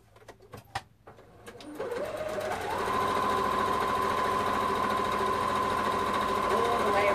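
A few clicks and taps come first, then a sewing machine starts and runs at a steady, even whir while stitching the underarm seam of a kimono-style wrap top, close and continuous.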